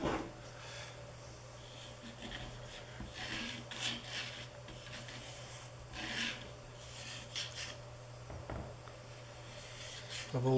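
White lithium grease is spread by hand along the X axis of a small CNC mill, giving soft, irregular rubbing and smearing strokes over a steady low hum.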